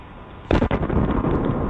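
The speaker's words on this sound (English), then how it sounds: "That just sounds like an explosion." A recorded explosion-like boom, compared to a sonic boom, bursts in sharply after a quiet moment, followed by a second quick crack and a long rumbling tail that fills the rest of the clip.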